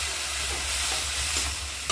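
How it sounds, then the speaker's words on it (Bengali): Masala spices fry in a pan for an egg curry, making a continuous close, dense sizzle with soft stirring scrapes throughout and a brief sharper scrape at the end, with no voices. "ভালো করে মশলা ভাজতে হবে"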